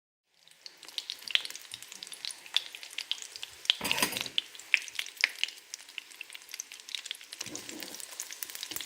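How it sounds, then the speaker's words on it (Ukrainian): Egg-dipped rolls sizzle and crackle in a hot pan, with irregular pops and spits and a brief louder burst of frying midway. "Смажаться вони дуже швиденько просто до такої золотистої шкуринки."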